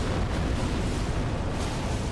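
A boss's fire explosion in Elden Ring erupts as a loud, dense burst of roaring blast noise that fills the moment and rumbles on steadily, with no voice over it.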